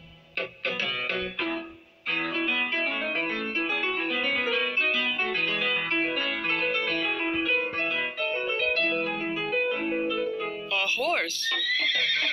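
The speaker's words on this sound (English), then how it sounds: "The horse is brown too." A cartoon horse gives a brief, wavering whinny near the end, following a stretch of bright, tuneful music in a children's colour-learning segment.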